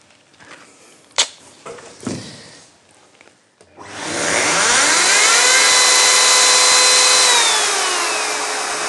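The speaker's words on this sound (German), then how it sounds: "Dazu nutzen wir die Oberfräse und diesen kleinen Fräskopf" A router fitted with a small bit spins up and cuts the edge of a beech tabletop, a loud, steady high whine running continuously after a few handling clicks and knocks.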